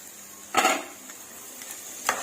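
Metal spoon scraping and clinking against a pan while stirring spicy mutton fry with garam masala, two short bursts of scraping with a faint clink between over a quiet background.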